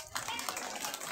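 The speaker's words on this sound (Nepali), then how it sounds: "ताली बजाएर जनाइदिनु होला" Audience clapping at a Krishna Janmashtami youth event in Dharan, a dense burst of applause from a crowd filling the whole moment, fairly close and steady.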